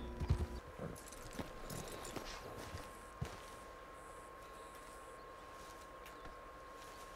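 Horse hooves clip-clop at a steady walking pace in Red Dead Redemption 2, faint beneath a continuous ambient hum, with a sharper single knock partway through.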